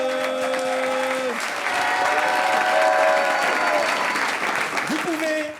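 Audience at a French stand-up comedy show applauding the comedians, steady dense clapping and cheering throughout, with a voice talking over it.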